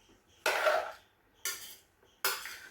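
Chopped mango pieces in oil being stirred in a pan: three distinct bursts of metallic spoon-on-pan scraping, each fading out, separated by quiet gaps, with no talking.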